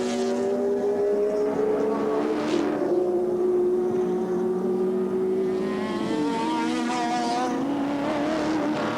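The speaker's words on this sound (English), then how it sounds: "Using the grunt of the big Ford Falcon out of the slowest corner on the track" Big Ford Falcon touring car accelerating out of the slowest corner at Oran Park Raceway in 1984 racing, a loud rising engine roar with gear changes, other cars mixed in, steady and close throughout.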